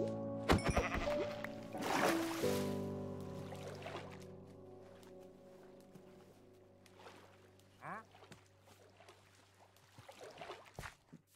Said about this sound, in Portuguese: Preciso de três ovelhas.